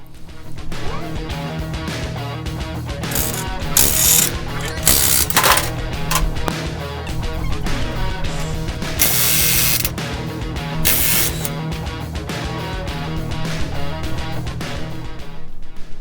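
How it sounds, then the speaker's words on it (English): A pneumatic impact gun rattles off the axle nuts on a motorcycle being built into a chopper, loud hammering bursts separated by short pauses, close up. "let's use your gun. Let's take the axle nuts off."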